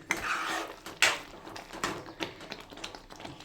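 Butter chicken curry being stirred in a pan, close irregular taps and scrapes of a utensil against the metal over a soft background.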